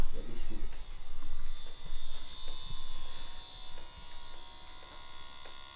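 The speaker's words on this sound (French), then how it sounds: "Donc ça c'est un vibreur" A handheld vibrating stimulation device buzzes steadily with a constant electric hum close to the microphone, its tone wavering slightly as it is held, with faint background noise and no clear talk.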